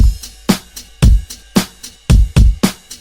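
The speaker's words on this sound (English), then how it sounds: "Then all together, the drum loop sounds like this." A chill indie-pop drum loop, programmed with kick, snare, hi-hat, ride and crash, plays loud and close in a simple steady groove, with punchy low kicks alternating with bright snare and cymbal hits.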